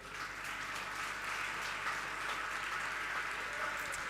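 An audience claps steadily and continuously, a dense even wash of applause at moderate loudness with no clear rhythm.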